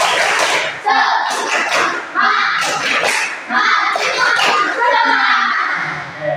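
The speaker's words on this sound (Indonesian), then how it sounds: "Ulangi, tepuk semangat." Pupils in a classroom repeat the 'tepuk semangat' clapping chant, a loud close sequence of rhythmic claps and slaps with children's voices chanting along in short bursts.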